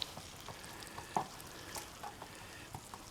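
Corned beef browning in a pan gives a quiet, steady sizzle, broken by a few soft stirring scrapes and clicks.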